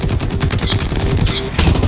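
Rapid automatic gunfire crackles in the futuristic shooter Blacklight Retribution, a loud dense burst of repeated shots lasting under two seconds, close and without talk.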